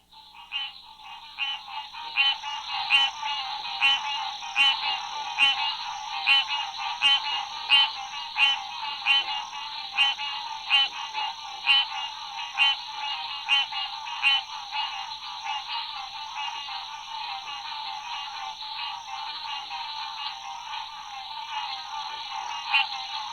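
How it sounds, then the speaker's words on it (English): A night chorus of green tree frogs, with cricket frogs chirping among them and a pig frog grunting in the distance, forms a steady, rapidly pulsing wall of calls that continues throughout. "a chorus of green tree frogs, with chirping cricket frogs and the distant grunt of a pig frog"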